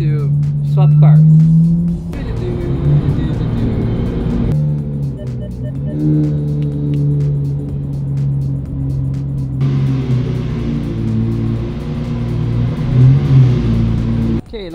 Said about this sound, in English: this is really noisy to keep cold starting in the basement